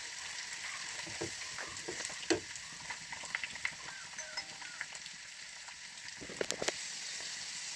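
Ginger, garlic and curry leaves sauté in a pan for lemon pickle, giving a soft, steady sizzle with occasional light clicks of stirring, fairly quiet and close, with no talk.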